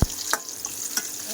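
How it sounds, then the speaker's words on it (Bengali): Potatoes fry in hot oil with a continuous close sizzle, broken by a few sharp pops and spatters, and no one speaking. "আলু ভাজা হয়ে গেছে"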